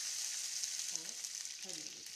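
Cumin seeds and chili dropped into hot oil hiss with a bright, even sizzle, close and quiet, with a faint voice murmuring briefly underneath.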